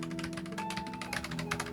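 Typing on a Drop Lord of the Rings Dwarven mechanical keyboard gives quick clacking keystrokes, close and dense, heard alone over a background hum.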